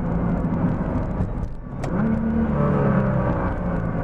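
A Nissan GTR accelerates on a straight road, a loud, steady engine drone that dips briefly, then climbs in pitch as the car gathers speed.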